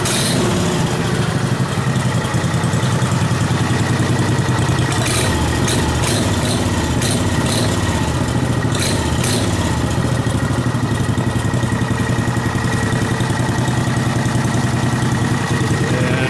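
A small engine on a Case 220 garden tractor idles steadily with a loud, buzzing drone, rising briefly in a few quick revs partway through, close by.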